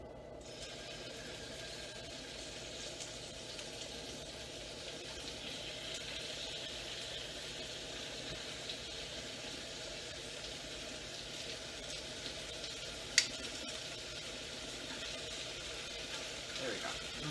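Meat drops into a pan of hot grapeseed oil for chicken enchiladas, giving a faint, steady sizzle and hiss that continues evenly throughout.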